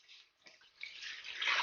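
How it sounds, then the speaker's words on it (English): Water is poured slowly into a bowl for pizza dough, making a faint, soft trickling splash that grows gradually steadier, with no talk. "So first we're going to pour the water in."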